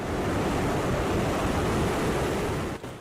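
Indian Ocean waves on an eroding, abrasion-hit coastline: a steady, loud roar of surf with wind noise, continuous and close, dipping briefly near the end.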